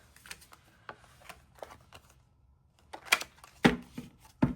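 Soft riffling and tapping of tarot cards being shuffled in short bursts, quiet at first and louder near the end, with no talking.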